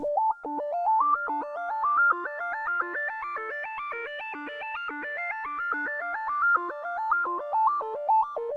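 Synth arpeggio from the Analog Lab preset Blister, dry with no effects: a steady, rapid run of bright plucked notes cycling up and down a repeating melodic pattern, even in level and heard alone.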